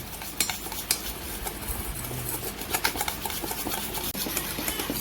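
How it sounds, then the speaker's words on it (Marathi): Cake batter of curd, jaggery and coffee powder is whisked in a bowl, giving quiet, uneven scraping and clinking taps of the utensil against the bowl, close and soft, with no voices. "आता आपण छान मिक्स करून घेऊया सगळं. याला जवळजवळ 2 ते 3 मिनिटं चांगलं फेटून घ्यायचं."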